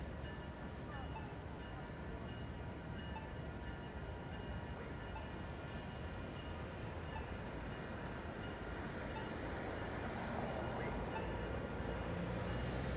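A train rolls past at a busy San Diego street crossing in the evening, its steady, loud rumble filling the whole stretch and swelling slightly near the end, with street noise mixed underneath.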